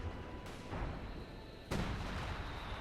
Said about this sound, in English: We got the heavy howitzer also firing.